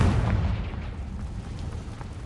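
A Confringo spell in Hogwarts Legacy goes off in a loud, heavy boom that rolls on as a dense, rumbling decay with scattered crackles.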